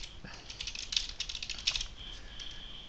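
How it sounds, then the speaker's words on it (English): Quick, uneven keystrokes on a computer keyboard as a name is typed in, close and fairly soft, with a short pause partway through and no voices. "Now you want to type your name."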